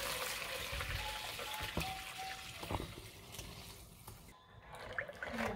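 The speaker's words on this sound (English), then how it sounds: "So let's pour this through the strainer." Homemade hibiscus tea (sobolo) poured through a bowl strainer, a soft, quiet trickle and splash of liquid running steadily for several seconds with a brief pause near the end.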